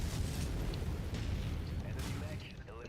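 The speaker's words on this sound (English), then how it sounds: "Incoming missile" Missile explosion in a mech video game: a dense, continuous low rumbling blast with sustained booming texture that stays loud throughout and slowly fades near the end.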